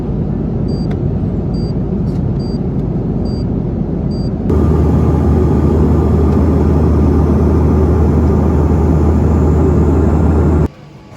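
Steady airliner cabin noise at around 37,000 feet cruising altitude, a dense low engine roar and broadband hiss that thickens and grows louder midway, then cuts off near the end.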